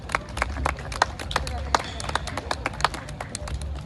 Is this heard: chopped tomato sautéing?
no